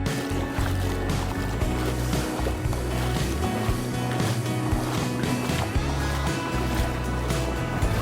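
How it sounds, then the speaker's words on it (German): A small motorboat's engine rumbles steadily up close while crossing to a beach in Brazil, with water splashing and churning throughout. "wir werden jetzt mit so einem kleinen Boot noch übersetzen zum richtigen Strand"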